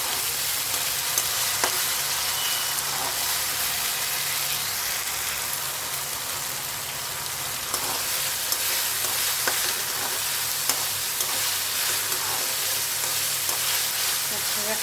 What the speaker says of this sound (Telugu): అల్లం వెల్లుల్లి జీలకర్ర వేసి చేసిన పేస్ట్ అండి ఇది, అది వేసేస్తాను.